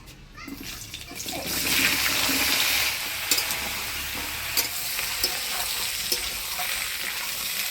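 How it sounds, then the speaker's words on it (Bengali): Pointed gourd (potol) sizzles as it fries in hot oil in a home kitchen, a dense steady hiss broken by a few sharp pops and the scrape of stirring. "এবার পটলগুলা ভাইজে নিব"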